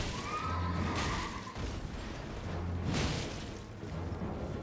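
A horse ridden by the Night's Cavalry boss neighs during an Elden Ring boss fight, a brief whinny heard over deep booming rumbles from the game's combat.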